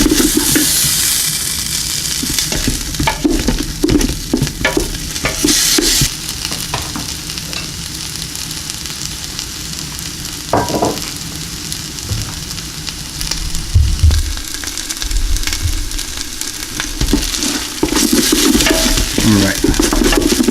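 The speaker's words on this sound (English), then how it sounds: "so you can smell the tomatoes cooking" Meat pasta sauce with tomatoes and olive oil cooking in a pot on the stove, a steady loud sizzle and bubbling with stirring scrapes, close and continuous, without talk.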